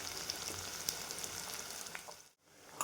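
Onion and carrot sautéing in a pan, a soft steady sizzle with faint crackles and a few light taps, dipping briefly near the end.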